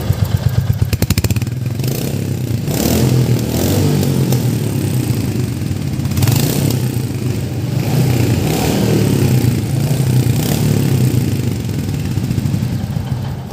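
A Royal Enfield Hunter 350 motorcycle in Metro Rebel Black runs close by, its single-cylinder thump idling steadily with a few throttle blips that swell the engine note, and no one speaks.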